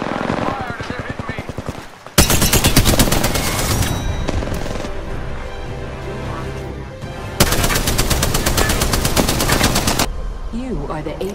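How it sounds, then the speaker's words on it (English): Loud, close bursts of rapid automatic gunfire in the shooter game Apex Legends, two long sustained volleys separated by scattered shots and game sounds, with a voice talking between them. "Fire! They're hitting me!"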